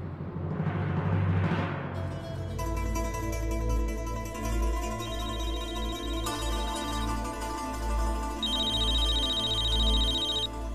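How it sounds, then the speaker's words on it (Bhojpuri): A telephone rings with an electronic ringtone, a sustained layered tone pattern that shifts pitch a few times and runs loud and unbroken for about ten seconds, after a brief swell of background noise at the start. "अरे अनुराग के फोन बा।"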